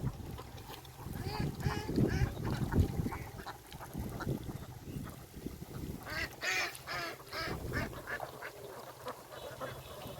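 A flock of ducks at a duck farm, many overlapping quacks and honking calls from a busy group, continuous and moderately close throughout, with no talk.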